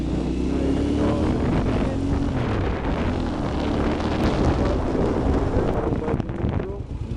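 A motorcycle pulls away under throttle, its engine a steady, loud drone buried in heavy buffeting wind noise on the microphone, with faint speech under it.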